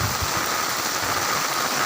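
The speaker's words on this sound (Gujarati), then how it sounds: "જુઓ ઓ વરસાદ ચાલુ છે" Steady, dense rainfall hissing continuously over a village in Junagadh district, close and fairly loud, with no voices.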